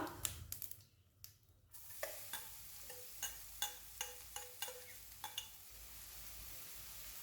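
Crushed tender jackfruit is stirred in a frying pan with a faint sizzle. A spatula scrapes and taps the pan in a quick run of sharp clicks, then turns slower and more regular, with no talk.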